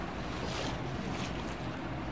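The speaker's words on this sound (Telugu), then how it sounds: "ఇవి నీళ్ళు ఎక్కడికో వెళ్తున్నాయి" Water gushes steadily from a farm motor pump left running in an open field, a continuous broadband rush with no breaks and no voices.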